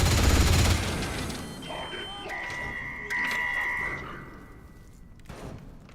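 Gunfire from old revolvers and other guns in the post-nuclear Britain video game Atomfall, a dense burst of shots and thumps at first, then tonal in-game buzzing and sporadic shots.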